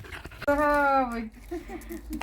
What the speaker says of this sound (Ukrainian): Лексус, привіт, моя собака